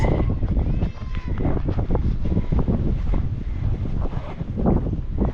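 Gusty spring wind buffets the microphone outdoors in uneven rumbling bursts, loud and close, with faint animal sounds in the background.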